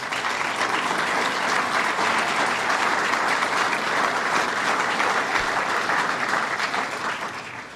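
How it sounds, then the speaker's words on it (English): Conference audience at a sustainable development event in Central New York breaks into loud, dense, continuous applause for several seconds, easing slightly toward the end. "let's give him a round of applause"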